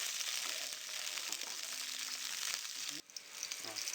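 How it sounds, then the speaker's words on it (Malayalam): Slit green chillies sauté in hot coconut oil in a pan, producing a close, continuous sizzle with light stirring and a brief dip near the end. "ഒരു പാന് ചൂടായതിലേക്ക് വെളിച്ചെണ്ണ ഒഴിച്ച് കൊടുത്ത് 4-5 പച്ചമുളക് നെടുകെ കീറിയതിട്ട് ഒന്ന് വഴറ്റി കൊടുക്കാം"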